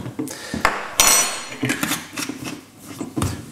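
A big spoon clinks and clatters against a bowl while brandy is spooned in for a chocolate pudding: several close, bright metallic knocks at an irregular pace.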